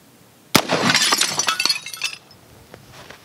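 A ceramic tile is struck by a rifle round at close range, giving one sharp crack that breaks into a shattering spray of tinkling fragments, fading over about two seconds, then a few faint clinks.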